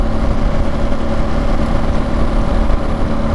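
Ducati Multistrada Enduro motorcycle cruising on the highway with cruise control on, a steady droning engine hum mixed with wind rush, constant and unbroken, no talking.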